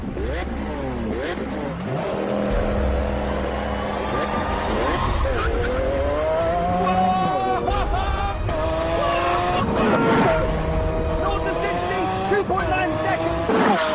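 A Lamborghini Aventador accelerates hard, its engine revving up through the gears in rising, falling sweeps at close range, with a voice talking over the roar.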